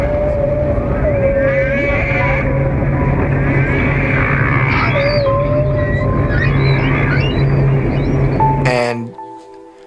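Underwater recording of a loud sonic blast attributed to the Navy, a sustained roaring wash with shifting tonal wails and whistles layered on top, loud throughout before cutting off abruptly near the end.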